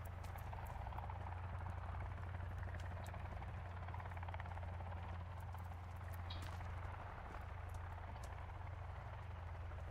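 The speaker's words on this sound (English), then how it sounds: "Well, there's the helicopter." Helicopter in the video game Sons of the Forest, a steady rotor drone running continuously and fairly loud for the whole stretch, with no talking over it.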